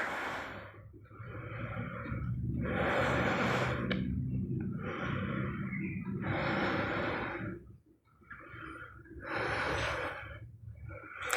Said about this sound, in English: Nice long deep breaths.